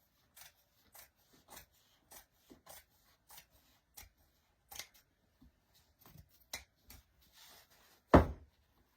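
Scissors trimming the edge of a canvas for DIY wall art, a series of short, evenly spaced snips close by and fairly quiet, ending with one sharper, louder clack.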